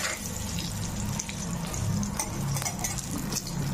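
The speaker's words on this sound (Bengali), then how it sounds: "এবার আমি এই তেলের মধ্যে আলু একটি ভেজে নিচ্ছি।" Potato pieces frying in hot oil with salt and turmeric powder, a loud, steady sizzle close up with occasional light clinks of a utensil against the pan.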